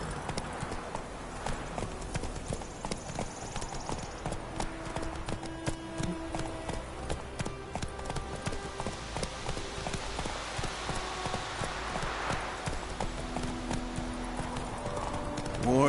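Roach the horse in The Witcher video game trotting along, continuous rhythmic hoof clip-clops with game music and speech mixed in around them.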